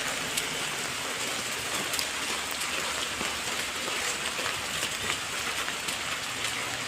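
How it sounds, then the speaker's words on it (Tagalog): Steady rain falls outdoors in Olongapo, a dense, even hiss of drops hitting surfaces that continues throughout with no voices. "Umuulan po, basa kami."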